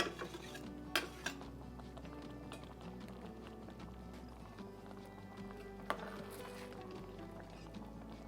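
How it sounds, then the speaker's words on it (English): Chicken pasta being dished up from a single pot, with faint clinks and scrapes of utensils against pots and dishes, a few sharper knocks, and a low background hum, with no talking. "And I'm going to dish this up and take a bite."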